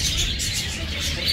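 Birds in an aviary chirp and tweet together with soft cooing from pigeons or doves, a continuous close chorus with no talking.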